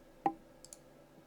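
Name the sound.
computer mouse clicking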